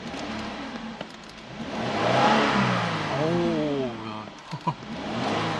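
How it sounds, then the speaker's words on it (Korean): A Hyundai Equus engine revs up and settles, its rising, falling whine up close, with a voice talking over parts of it. "야 진짜 엔진 한번 들어보시죠."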